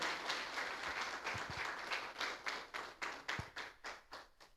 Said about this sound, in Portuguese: vamos receber a serva do Senhor, aplaudindo Jesus bem forte pela vida dela